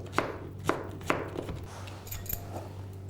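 A knife chops banana flower thinly on a board, three crisp close strokes in a quick regular rhythm followed by softer scraping and lighter taps.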